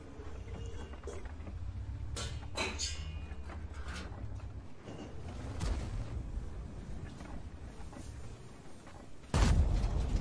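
A heavy tank gun blast from a 50TP tank in a video game bursts out suddenly near the end, following a few sharper impacts amid a low rumbling game soundscape.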